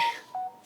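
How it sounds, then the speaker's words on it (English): A short electronic phone alert sounds, two brief clear tones in quick succession, close and alone in a quiet setting. "That's my phone telling me to shut the fuck up now."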